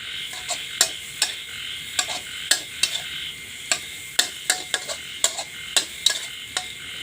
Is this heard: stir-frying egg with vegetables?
yes